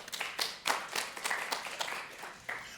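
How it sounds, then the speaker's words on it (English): Brief scattered clapping from a few people at a weekly online project meeting, several uneven claps over a couple of seconds, fairly faint and thin. "Again, a big round of applause to FOSDEM speakers, presenters, coordinators, and Anthony Maton."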